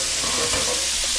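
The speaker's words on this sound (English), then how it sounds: "over here we got the vegetables cooking. Okay, I can stir it." Vegetables sizzle and fry on a homemade hibachi, a steady loud hiss filling the air, with soft scraping of stirring underneath.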